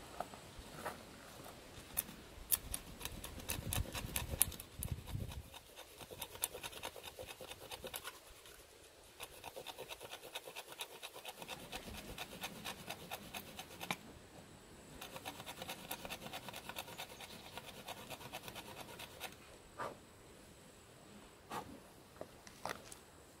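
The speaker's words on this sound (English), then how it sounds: "Of course, we got a saw." A saw rasps notches into hardwood in bursts of scraping strokes, close and fairly quiet, with brief pauses between cuts.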